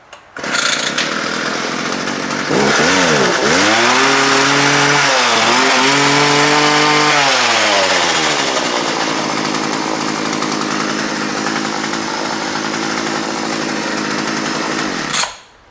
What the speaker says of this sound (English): I started up the gas hedge trimmer.